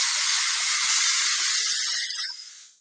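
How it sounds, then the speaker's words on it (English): A can of dry oil hair spray releases a steady, close hiss for about two seconds before it tapers off and stops. "So we're going to use first our dry oil spray"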